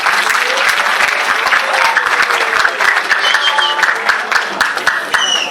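Loud, dense applause from a crowd at a literary workshop final program as the association's president is invited to the stage, steady throughout with a few voices and whistles rising faintly above the clapping.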